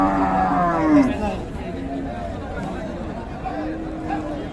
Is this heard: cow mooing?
yes